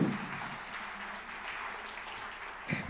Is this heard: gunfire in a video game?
no